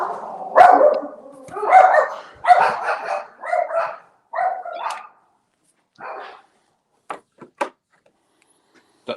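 A dog barks in a short series of close, loud barks, followed by a few sharper yips and brief sounds trailing off into quiet.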